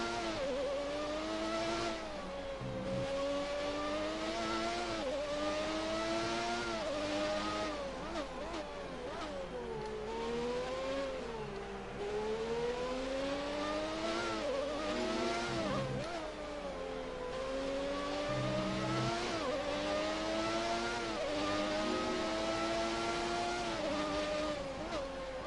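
An F1 car engine from F1 2019 at the Chinese Grand Prix screams steadily, its pitch climbing through each gear and dropping sharply at each upshift, repeating in waves, with other cars audible nearby, loud and unbroken.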